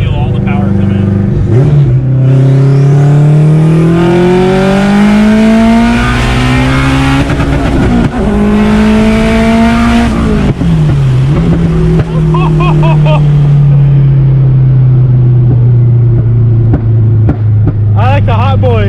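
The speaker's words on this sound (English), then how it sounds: "I'll even roll into third so you can feel all the power come in." An AWD Honda car accelerates hard from close inside the cabin, engine pitch climbing steadily, dropping with a shift into third, then pulling again loud and strong, with people talking over it.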